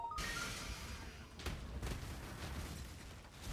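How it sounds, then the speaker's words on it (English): A big explosion erupts in the action game Path of Exile, a sudden deep boom followed by a crackling burst and rumbling debris that fades out, fairly faint overall. "Holy shit, that was a big explosion."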